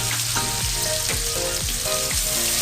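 Minced beef frying in a pan in a home kitchen, a steady broadband sizzle with occasional stirring scrapes, loud and close, with no voices.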